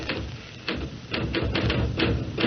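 Rapid typewriter keys clack in uneven bursts, a steady mechanical tapping with occasional heavier strikes, close by and without voices.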